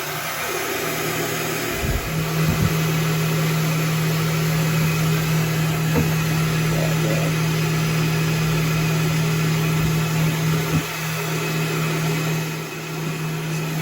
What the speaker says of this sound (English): That heat gun gets really hot.